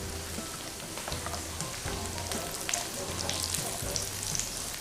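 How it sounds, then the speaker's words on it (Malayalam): Cashew nuts and raisins fry in hot oil in a pan, giving a steady dense sizzle with crackles and occasional stirring scrapes, close and continuous throughout. "കിസ്മസും കാഷ്നട്ടും ഒക്കെ നന്നായി ഫ്രൈ ആയി വന്നിട്ടുണ്ട്."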